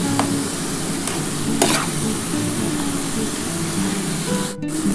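Radish leaf mixture is stir-fried in a pan, a continuous oily sizzle with scraping spatula strokes over it and a brief clatter near the end, with no talk.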